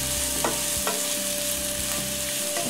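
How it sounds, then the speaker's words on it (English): Chopped onions and salt sauté in hot oil in a pan, a dense, even sizzle close up, broken by a few soft stirring knocks, with a faint steady hum underneath and no speech. "I'm going to add the onions first. And with the onions, I'm going to add the salt. And let's just saute that."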